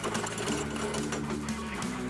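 A red oak bowl blank spins on a wood lathe while the tool chatters against the uneven hard wood, making a rapid, loud, machine-gun-like rattling, close up, with no talking.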